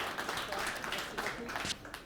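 Audience applause welcoming an economic adviser from the Tunisian embassy at a business event, a steady dense patter of clapping sustained for about two seconds with a faint voice mixed in.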